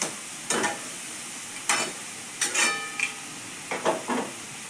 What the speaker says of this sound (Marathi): मिरचीचा आणि लसूणचा आपण थोडंसं याला भाजून घेऊया